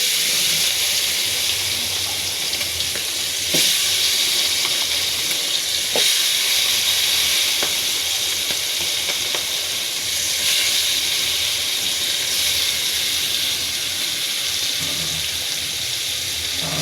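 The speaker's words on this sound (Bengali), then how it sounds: "এভাবে কিছুক্ষণ মাছগুলো ভেজে নিব।" Small fresh fish, tengra and koi, fry in hot oil with a steady, loud broadband sizzle and hiss throughout, broken by a few sharp spatters and crackles. No voices are heard.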